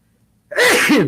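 A single loud, close sneeze bursts out after a moment of near silence, with a sharp intake and explosive release.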